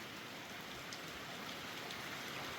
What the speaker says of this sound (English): But it is raining pretty good, and it's supposed to be heavy for a couple hours now.